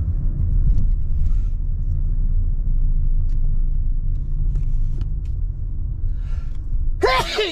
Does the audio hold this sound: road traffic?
yes